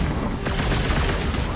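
Rocket's gun fires in the Guardians of the Galaxy video game, a loud, dense burst of rapid shots that runs continuously for the whole moment amid game noise.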